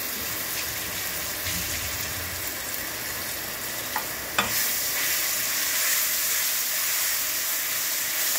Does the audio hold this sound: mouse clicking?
no